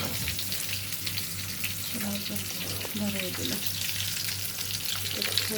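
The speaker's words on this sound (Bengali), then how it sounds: "সেটা ভাজতেছি মাছগুলো ভাজা হয়ে গেছে কড়া কড়া করে" Hilsa fish fry in oil with a dense, steady sizzle that stays close and constant throughout, with a faint voice murmuring underneath at times.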